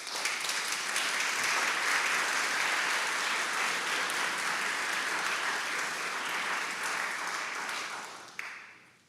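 Steady congregational applause in a church sanctuary, a dense, even clapping from a large audience that holds for several seconds before thinning and fading out.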